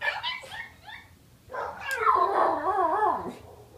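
Brother and sister schnauzers greet each other with high, wavering whimpers and whines. Short yelping bursts come first, then a longer, louder stretch of excited whining close by.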